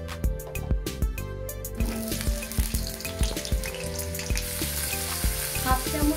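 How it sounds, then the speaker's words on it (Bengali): Chunks of potato frying in mustard oil in a kadai, a steady loud sizzle broken by sharp clatters of the spatula stirring the pieces. "এবার এই আলুটা আমি কড়াইতে দিয়ে ভালো করে ভেজে নেব।"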